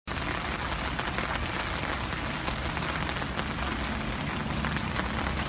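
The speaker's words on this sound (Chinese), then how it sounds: "下这么大雨你也出来玩儿，你不怕水呀？" Heavy rain falls steadily and loudly throughout, a dense, continuous hiss of drops striking surfaces with no pauses and no voices.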